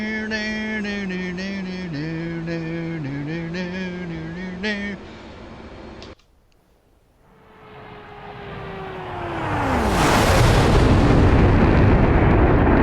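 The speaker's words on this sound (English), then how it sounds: "bring back the afterburner" F/A-18 Hornet jet in the DCS flight simulator game: a steady tonal engine drone, a brief near-silent gap, then a falling whine that builds into a loud, broad afterburner roar filling the end.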